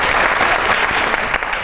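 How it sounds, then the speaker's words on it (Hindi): Brief burst of dense studio audience applause on a comedy talk show, loud and continuous throughout. "तालियां होनी चाहिए"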